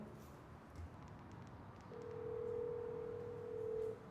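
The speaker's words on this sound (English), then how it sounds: "All right, it's ringing." A phone call rings out as a steady electronic tone over a quiet room hum, lasting about two seconds.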